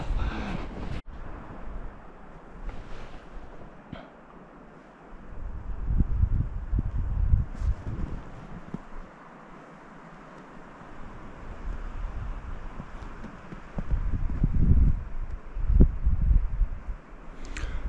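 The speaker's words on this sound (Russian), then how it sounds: "Ветер сильный, не слышно," Strong gusty wind buffeting a microphone in rumbling bursts that rise and fall during a hare hunt outdoors, with a few sharp knocks and quieter lulls between gusts.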